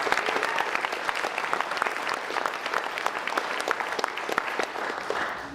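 A crowd at a recovery event breaks into dense, sustained applause, a steady wash of many hands clapping close and loud for the full stretch without any voices over it.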